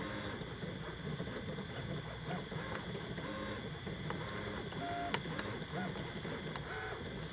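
An EasyThreeD K1 3D printer runs a print at 0.2 mm layer height, its stepper motors whirring and warbling steadily with shifting tonal moves and a small click, while a voice talks quietly over it.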